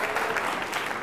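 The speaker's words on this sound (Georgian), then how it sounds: "აპლოდისმენტები" Studio audience clapping on a Georgian blitz quiz show, a brief burst of steady, moderately loud applause filling the moment.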